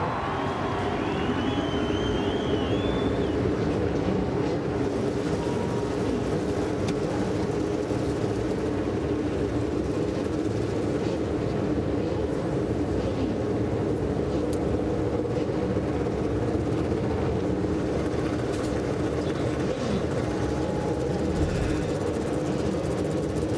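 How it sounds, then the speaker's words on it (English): IndyCar race car engines start up and idle together at Michigan International Speedway on a rain-delayed day, making a steady, dense drone with faint crowd noise and no clear talk. "Ladies and gentlemen, start your engines."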